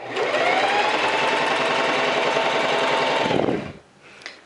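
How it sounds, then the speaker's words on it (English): Sewing machine running steadily for about three and a half seconds as it stitches a bodice seam, a continuous close whir that stops abruptly, followed by a brief faint click. "I hold on to these threads, hand walk the first 2 stitches, and then sew the rest"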